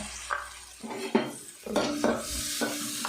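Chopped onions and fennel seeds sautéing in oil in a pan for potato spring roll filling, a constant sizzle broken by repeated metal spoon scrapes and clinks against the pan, close and fairly loud without talking.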